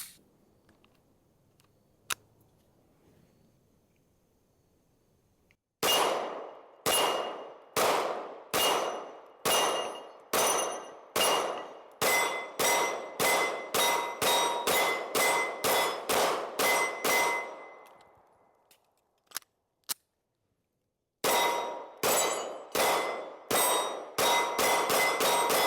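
A Canik MC9LS pistol firing at steel targets set out to 100, each shot giving a sharp ringing clang. The hits come in fast, steady strings, with a pause before a final string.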